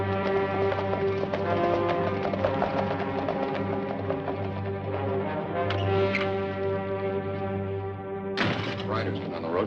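Horses' hooves clip-clop in a 1955 Western television drama, the rhythmic hoofbeats running beneath a loud sustained musical score throughout.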